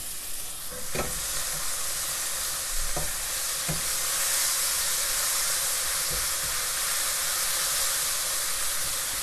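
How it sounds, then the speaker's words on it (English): Home-grown wine cap mushrooms crisping in a little neutral oil in a pan, a broad, even sizzling hiss throughout with a few soft knocks early on, close and steady, no speech. "I'm going to put a tiny bit of neutral oil in the pan. Start crisping these up"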